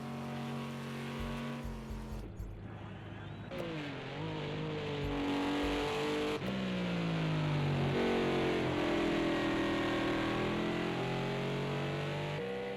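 Race car engine roaring in a racing video game at Watkins Glen, a sustained loud drone with shifting pitch as it revs and shifts gears, running steadily throughout with no talk.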